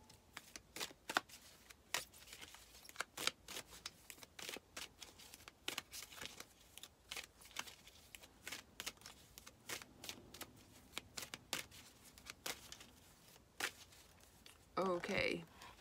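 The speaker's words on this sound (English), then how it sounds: "We've got too many cards falling out all at once, so let's just pick some more." Playing cards are shuffled repeatedly in a tarot or oracle reading, giving sharp riffling bursts at a steady, uneven rhythm, with a louder flurry near the end and soft speech murmuring underneath.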